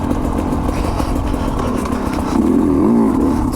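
A Sherco 250 SE two-stroke trail motorcycle, its engine a close, steady low buzzing drone that swells briefly toward the end as the throttle opens.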